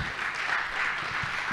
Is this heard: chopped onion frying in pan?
no